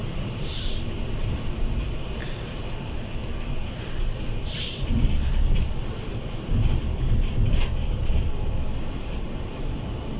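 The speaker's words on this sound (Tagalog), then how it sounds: "Ocean." Wind gusts buffet the microphone by the ocean while waves surge and wash in the background, a loud continuous roar that swells midway, with no one talking.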